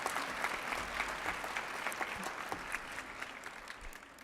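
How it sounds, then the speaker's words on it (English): A crowd applauds the parents at an evening welcome event, steady dense clapping sustained throughout with faint voices beneath. "I would like us to give a second round of applause to the parents"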